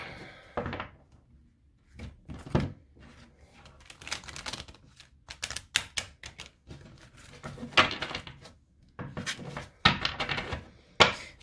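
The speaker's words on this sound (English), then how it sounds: "So hard to shuffle square cards." Square tarot cards are shuffled by hand in uneven bursts of soft riffling, slapping and tapping, with quiet gaps between the handling sounds, close and clear.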